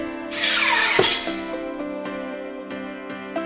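The motorized mask of a 1:1 Killerbody Iron Man MK5 wearable helmet closes with a short airy hiss, then a whining, tonal mechanical hum broken by several clicks as the mechanism moves and locks.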